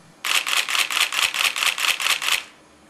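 A Nikon D90 DSLR fires a rapid burst in continuous shooting mode at 4.5 frames per second, about ten crisp, evenly spaced shutter clacks in two seconds, close and clear against near silence.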